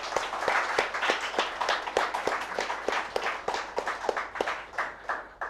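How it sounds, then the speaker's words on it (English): Audience applause at an indoor institute program in Chennai, a steady run of distinct hand claps from a modest crowd, fairly close and continuous for several seconds with no talking. "let's all give him a big round of applause."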